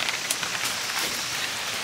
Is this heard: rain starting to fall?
yes